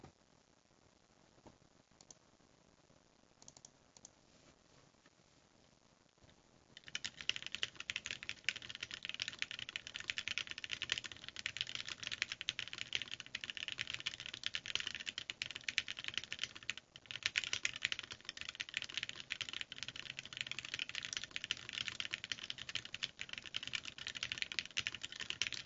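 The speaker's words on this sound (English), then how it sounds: "let's do another typing test of this" Typing on a Keebsforall Freebird TKL mechanical keyboard: after a few quiet seconds, a fast, steady stream of close-up keystroke clicks and clacks continues without pause, with no one talking.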